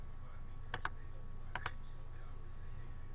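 Two pairs of sharp, close computer mouse clicks land on a back button against a faint background hum.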